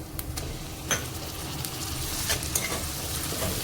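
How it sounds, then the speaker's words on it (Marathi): Tomato sautéed with golden-browned onions in a pan, a soft continuous sizzle broken by a few sharp clinks and scrapes of a stirring spoon, fairly quiet and close. "टोमॅटोला छान असं मॅश होऊस्तोवर, मऊ होऊस्तोवर परतवून घ्यायचं आपल्या कांद्यासोबत."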